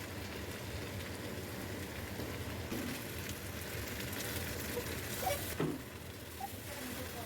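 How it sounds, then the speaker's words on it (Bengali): Fried potatoes are stirred into spices in a frying pan. A quiet, steady sizzle runs throughout, with scraping and a few louder clinks and knocks near the end. "এবার আমি আলু ভাজাগুলো দিয়ে দিলাম, সবই ভালো করে মশলার সাথে মিশিয়ে নেব।"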